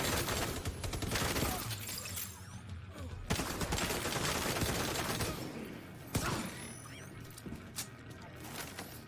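Gunfire from a SWAT tactical video game rattles in dense, sustained bursts with sharp isolated cracks, loud and continuous across the whole stretch, mixed with clattering mechanical noise and a few faint voices.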